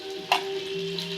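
Onion frying in a pan with a steady, close sizzle, one brief clink early on, and a faint tonal hum running underneath.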